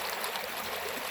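Mountain lake stream at Lago delle Tose near Calalzo, water trickling and gurgling steadily, a soft continuous wash close by with no voices.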